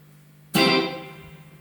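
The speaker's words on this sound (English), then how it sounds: "This turned all the way down is one repeat." Single plucked electric guitar note run through an Echolette NG 51 tube tape echo on the first tape head with one repeat, a sharp bright attack followed by a quick single echo that fades within a second.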